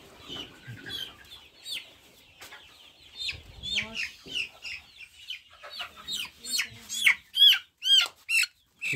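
Chickens cluck and squawk at a poultry farm, scattered short calls that grow louder and more frequent toward the end, close by with little else around them.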